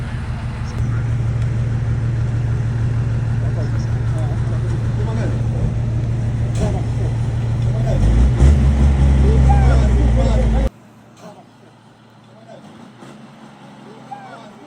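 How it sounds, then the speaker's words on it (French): A safari truck's engine idles with a steady low drone at a reserve in Angola, swelling into a louder rumble before dropping away to quieter background noise, with voices heard over it. "Ça, c'est notre camion qui va nous emmener au safari."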